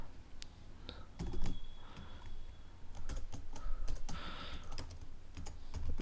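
Close, steady keyboard typing as C# code for a SQL insert query is entered on a computer keyboard, irregular clusters of crisp key clicks with short pauses between words.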